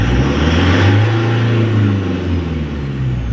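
An engine restarted after the air cleaner was removed, revving loud and close in a steady, strong drone that swells and eases slightly over a few seconds.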